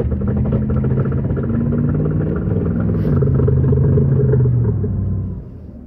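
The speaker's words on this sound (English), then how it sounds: "I want to make this video today to show you what a bad differential sounds like" Car with bad front differential bearings driving, giving a loud, close, droning rumble with a wavering low growl that rises slightly in pitch, then eases off near the end as the throttle lifts.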